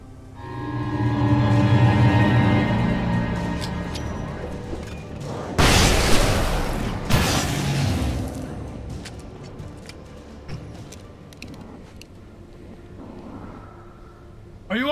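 A flashbang flare bursts in Alan Wake Remastered with a loud broadband blast lasting about two seconds, then a second burst, standing out over steady game music and ambience before fading into quieter background.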